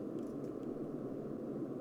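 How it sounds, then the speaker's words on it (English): Soloed atmospheric noise layer from a mainstream techno track: a steady, low-level wash of hissy noise that stays even throughout, with no rhythm or voices. "It's just kind of like an atmospheric sound that kind of pumps throughout the song."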